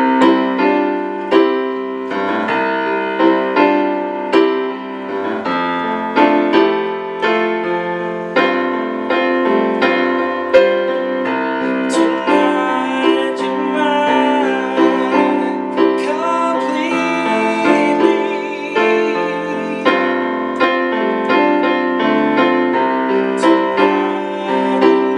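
A live recording of a song plays as continuous band music with melodic voice and instruments, moderately loud and steady with rhythmic pulses throughout.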